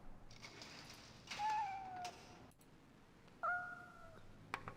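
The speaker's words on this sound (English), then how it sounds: "I hear cat." Two distinct cat meows from a 1996 DOS adventure game, the first longer and wavering, the second shorter and flatter, both clear against a low hiss with no talking.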